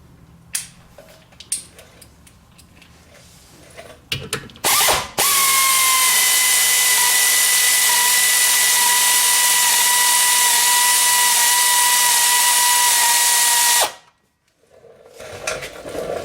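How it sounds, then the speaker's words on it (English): A power tool whirs at a steady high pitch for about eight seconds after a few clanks and ratchet clicks, then cuts off abruptly, removing a bolt while changing rear brake pads on a Chrysler 200. "we're going to be using a power tool"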